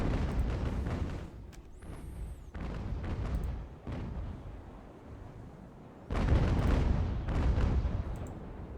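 Big naval guns aboard the Constitution fire in Ultimate Admiral: Age of Sail, heavy booming broadsides rumbling in overlapping waves, with a louder fresh volley crashing in partway through.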